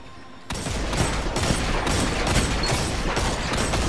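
Rapid video game gunfire erupts after a brief quiet moment, a dense, sustained barrage of shots that continues loudly to the end.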